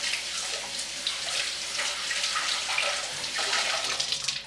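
Cold tap water runs steadily over cabbage in a sink, a close, splashing rinse that stops abruptly at the end.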